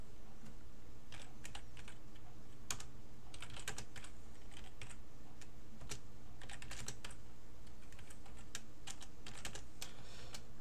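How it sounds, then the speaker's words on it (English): Fingers tap out rapid, uneven bursts of clicks on a computer keyboard attached to a PC running Windows 8.1 on an AMD Athlon 64, close and clear over a low hum, with brief pauses between runs. "And we are now ready to start typing."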